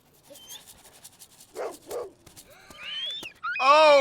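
A dog barks twice in a scene from the TV series Mad Men, short moderate barks followed by a whine-like yelp and higher-pitched tones near the end.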